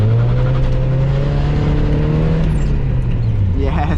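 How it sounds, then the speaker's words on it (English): A 1991 Mazda Miata drifting on a dirt road, its engine droning loud and close with a steady, slightly rising pitch, dropping off near the end as tyres and gravel scrub underneath, with a voice briefly heard. "Oh, but we can drift this."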